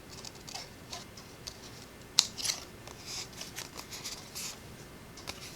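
Scissors trimming paper die cut pieces make a series of quiet, close snips and ticks, irregular and sparse, with one sharper snip in the middle.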